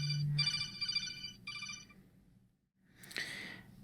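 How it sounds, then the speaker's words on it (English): A telephone rings with an electronic ringtone in two bursts of warbling tones, fairly close and clear, then falls quiet before a brief rustle. "I'm going to answer this phone"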